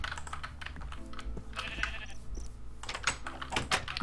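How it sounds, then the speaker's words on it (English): Sheep bleating in a Minecraft-style video game, short bleats scattered over a busy backdrop of game sounds and clicking, with no talk. "Let us shear the sheep."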